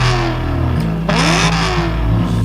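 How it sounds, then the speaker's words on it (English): A 2013 BMW M3 E92's V8 engine revs loudly up and down, the pitch rising and falling through two sharp climbs, close and powerful without any talk. "Yes, the oh so mighty, fantastically sounding V8 of an E92 M3."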